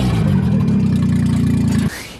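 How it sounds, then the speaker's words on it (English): A three-cylinder Geo car engine running and revving, a loud close buzzing drone held steady for nearly two seconds before cutting off abruptly. "Hey, we have a running engine here."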